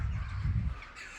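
Crows cawing in a garden at 6 a.m. as a flock takes off in a burst, loud nearby calls and flapping mixed together, fading after about a second.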